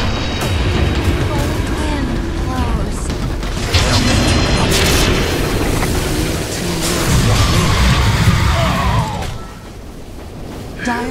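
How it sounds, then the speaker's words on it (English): A tower being destroyed in a Dota match comes through as dense, loud booming battle noise with crashes and layered effects, and a voice talks over it before everything drops quieter near the end. "Dire's middle tower has fallen."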